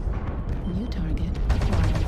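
Rapid machine gun fire from a mech in MechWarrior Online, dense loud bursts of crackling shots with a heavier burst toward the end, a voice talking over it.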